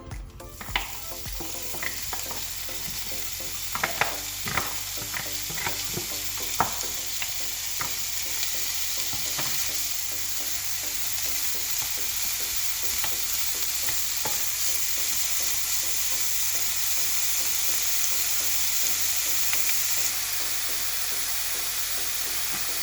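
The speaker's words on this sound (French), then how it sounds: "Nous allons commencer par faire dorer les lardons dans une poêle bien chaude" Lardons browning in a very hot frying pan, giving a dense, continuous sizzle with occasional sharp pops and spatters, close and steady throughout.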